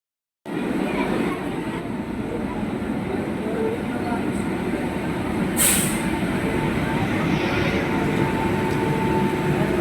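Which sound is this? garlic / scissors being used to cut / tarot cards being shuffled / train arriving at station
train arriving at station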